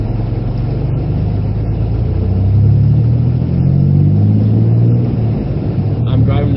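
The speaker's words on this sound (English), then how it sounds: "I'm driving to the next road." A car engine humming steadily while driving along a rural road, a continuous low rumble that rises slightly mid-way, with muffled talking inside the vehicle.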